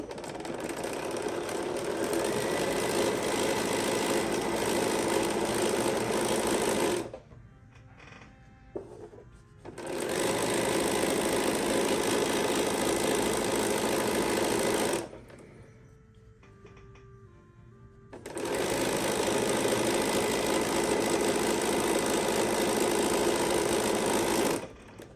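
A sewing machine stitches a fabric grocery bag in three long, steady bursts of rapid mechanical whirring, separated by quiet pauses with faint handling noises.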